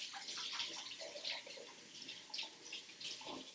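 Water from a tap running over a leek being rinsed in a kitchen, a close, hissing splash that shifts and sputters as the vegetable moves under the stream.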